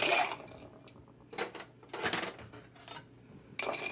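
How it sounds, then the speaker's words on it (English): Ice cracking and a spoon stirring in a mixing glass for a Gibson martini, a few separate clinking, clattering bursts spaced out across a quiet background, close and moderately loud. "I'm going to crack a piece of ice, or 2. And then give a good stir."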